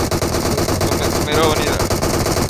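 Rapid automatic gunfire from the mobile game PUBG Mobile fires in a loud, continuous burst of closely spaced shots throughout, with a brief swell of an additional effect midway.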